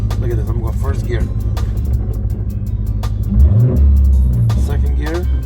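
A modified manual Dodge Hellcat engine rumbles and revs in first gear, a low, loud throaty drone that swells near the end, with someone talking over it throughout.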